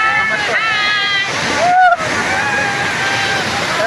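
Sawatkada waterfall pours in a steady, broad rush of splashing water that fills the whole stretch, with a brief dip partway through and voices faintly audible in the background.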